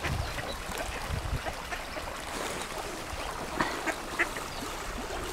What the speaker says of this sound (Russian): Уточки кормятся.